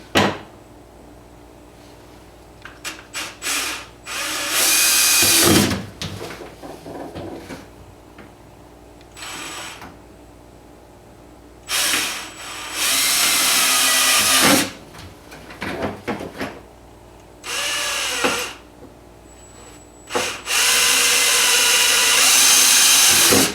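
A power drill bores holes for number 8 stainless hardware while an accessory fuse block goes into a Wildcat Sport, running in several short, loud bursts separated by quiet pauses and small handling clatter.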